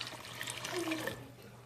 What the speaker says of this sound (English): I'm going to add 2 cups of water to it.